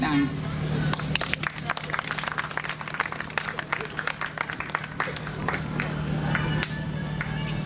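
A crowd applauds at the opening of the Banda Bou carnival 2019 for senhora Sista, a dense, sustained clapping with crowd murmur underneath and a steady hum.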